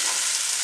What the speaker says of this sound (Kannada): ನೋಡಿ ಇದೆಲ್ಲ ಸ್ವಲ್ಪ ಫ್ರೈ ಆಗ್ತಾ ಇದೆ.